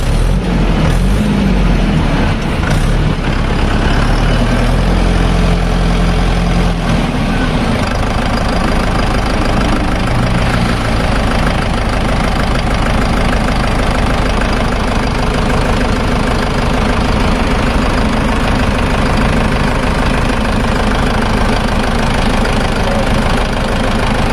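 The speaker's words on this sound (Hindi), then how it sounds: "अब आप इस ट्रैक्टर के इंजन के साउंड को सुनिए।" A Mahindra tractor engine idles steadily and loudly throughout, a constant low rumble with a faint knocking rhythm and no talking.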